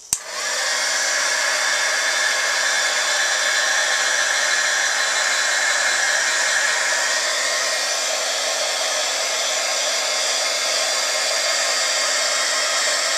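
A heat tool switches on and blows hot air over a fresh brayer print held by a clip, giving a steady, loud, close whooshing hiss with a motor whine that runs without pause.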